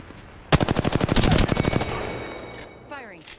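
Automatic gunfire in a video game: a close, loud rapid burst of about a dozen evenly spaced shots lasting over a second, then a fading tail and faint electronic chirps.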